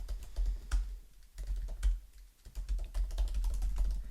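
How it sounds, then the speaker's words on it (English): Rapid keystrokes patter on a computer keyboard in quick irregular runs with brief pauses, close and moderately quiet, with a low background hum beneath. "And you can even type in a headline"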